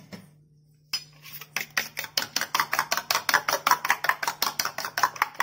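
Eggs beaten with salt and a ladle of dal-rich sambar for kalakki, a fork or spoon tapping the bowl in quick, even strokes that start after a brief silence and keep a steady rhythm.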